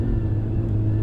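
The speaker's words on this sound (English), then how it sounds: "white van" A white van passes close on the road, giving a steady, loud low engine rumble and road noise that fills the whole moment.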